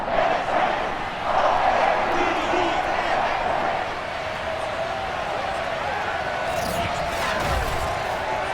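Stadium crowd roar in a Madden NFL 22 football game as the Baltimore Ravens host the Cleveland Browns, a steady wash of cheering at moderate loudness that swells and sustains throughout, with no voices speaking over it.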